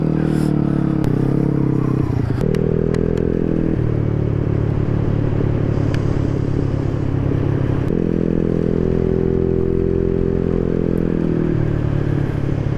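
A Maddog 150cc GY6 scooter drones loudly and steadily while climbing Pikes Peak, its engine note stepping up and down between throttle changes, with wind rush and a few light clatters.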